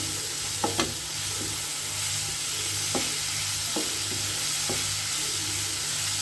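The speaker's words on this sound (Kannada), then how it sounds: "ಇದನ್ನು ಇವಾಗ ಚೆನ್ನಾಗಿ ಫ್ರೈ ಆಗಬೇಕು ಕ್ರಿಸ್ಪಿ ಆಗಬೇಕು ಅಲ್ಲಿವರೆಗೆ ಚೆನ್ನಾಗಿ ಫ್ರೈ ಮಾಡ್ಕೋಬೇಕು" Cluster beans (chavalikayi) fry toward crispness with a loud, continuous sizzling hiss over a low steady hum, broken by a few brief spatula scrapes and taps, without any talking.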